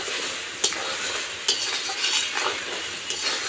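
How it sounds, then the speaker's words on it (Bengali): Clams sauté in a pan as a utensil stirs and scrapes them over a steady low sizzle. Several sharp metallic taps of the spoon against the pan stand out at irregular intervals. "এবারে এইভাবে করে আমি কষিয়ে নেব কিছুক্ষণ, 10-15 মিনিট ধরে আমি কষিয়ে নেব ঝিনুকটাকে।"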